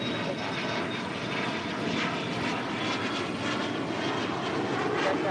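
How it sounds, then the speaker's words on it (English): Gulfstream G280 business jet at LAX, its engines giving a steady, loud broadband roar that holds evenly throughout with no break. "It's a Gulfstream GE 280."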